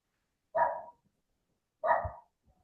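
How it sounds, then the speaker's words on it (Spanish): A dog barks twice nearby, two short, clear woofs about a second apart against otherwise quiet surroundings. "Oye, ¿dónde suena el perrito?"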